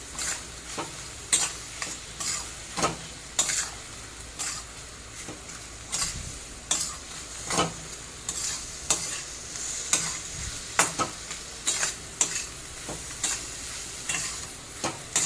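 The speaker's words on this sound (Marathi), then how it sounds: "त्याच्यानंतर आलू लसणाची पेस्ट चांगलं परतून घ्यायचं" Ginger-garlic paste sautéing with turmeric for restaurant-style pav bhaji, a soft sizzle broken by regular, fairly evenly spaced stirring scrapes against the pan, close and with no talk.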